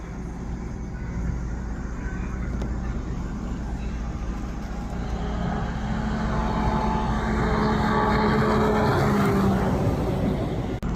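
A Sea-Doo RXT-X 300 jet ski runs at full throttle after carbon ring and jet pump repairs, a loud sustained engine roar that holds steady and builds slightly toward the end.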